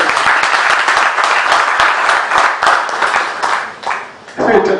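Audience at a ceremony honouring a newspaper editor's fifty years in journalism bursts into loud, close applause, crisp individual claps over a steady roar, dipping briefly before a voice comes in at the end.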